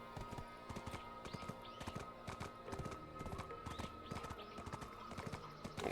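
A horse runs in the online game Black Desert Online, its hooves striking in a quick, steady clip-clop rhythm, faint and unaccompanied by talk.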